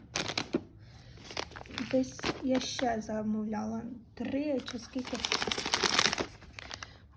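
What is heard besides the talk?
crinkling plastic roasting bag being handled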